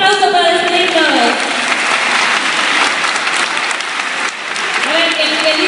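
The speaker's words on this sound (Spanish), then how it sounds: "Un aplauso para los chicos." Steady, loud applause fills the room for cosplay contestants at a cosplay awards ceremony in Gijón, continuous for several seconds, with voices talking over it.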